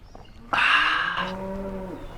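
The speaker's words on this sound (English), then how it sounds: "that was a loud cow" A loud, close cow moo bursts in after a quiet start, a long bellowing call that shifts pitch partway and holds to the end, in Nairobi, Kenya.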